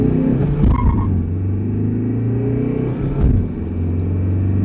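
A Tata Harrier Dark Edition SUV accelerates hard in sports mode, its engine rumbling loud and close with rising tone, a gear change midway, then pulling strongly again.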